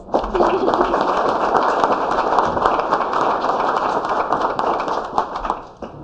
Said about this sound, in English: Let's do the applause.